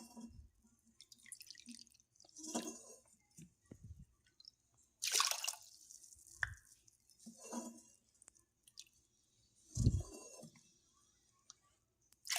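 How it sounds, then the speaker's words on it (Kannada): Water poured from a cup onto washed moong dal in a cooker, heard as quiet, scattered splashes and drips with short pauses between pours. "ಹೆಸರುಬೇಳೆ ತಗೊಂಡಿರೋ ಕಪ್ಪಲ್ಲೇ ಮೂರು ಕಪ್ಪಷ್ಟು ನೀರು ಹಾಕ್ಕೊಳ್ತೇನೆ"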